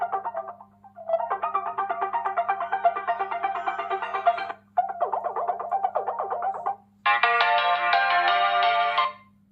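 Tinny, bright melodic tones ring out in bursts from a small phone speaker while a Fire-Boltt Tank smartwatch is set up, with a steady low hum beneath and brief gaps between phrases.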